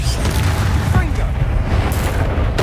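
A Confringo spell explosion in the video game Hogwarts Legacy, a loud, dense burst of booming, crackling noise that fills the clip without pause, with some voice-like sound mixed in underneath.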